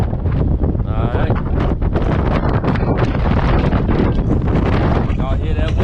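Strong high wind buffets a truck cab in North Dakota, a loud continuous roaring rush with gusty surges, while someone talks over it throughout.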